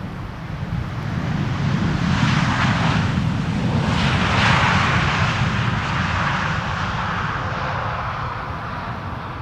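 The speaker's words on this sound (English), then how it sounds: "Touching down now after 9 hours and 33 minutes of flight." An airliner touches down on runway 18R Polderbaan at Schiphol in gusty evening weather, its engines a loud, sustained roar with broad rushing noise that swells mid-clip and holds steady, wind buffeting the microphone throughout.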